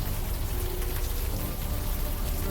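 Steady rain falls in the Old Skies video game, a dense, even patter that fills the scene without pause, with no voices or other sounds over it.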